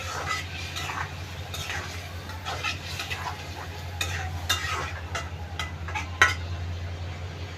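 Food being stirred while it cooks in a pan, with a spoon scraping and clinking against the metal in an irregular rhythm over a low sizzle and a steady background hum, close by.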